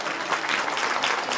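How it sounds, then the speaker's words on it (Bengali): A short burst of steady audience clapping for a speaker at a golden jubilee event, dense and fairly loud, holding level with no voices over it. "আরো একবার জোরে হাততালি স্যারের জন্য।"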